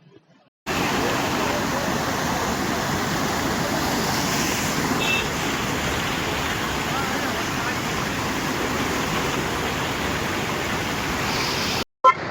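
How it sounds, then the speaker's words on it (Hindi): The Kothari river runs in flood after heavy monsoon rain in the Sawaipur area, a loud, unbroken roar of rushing water that lasts for seconds and then cuts off abruptly. "जिस प्रकार की कोठारी नदी है वो इस समय उफान पर चल रही है"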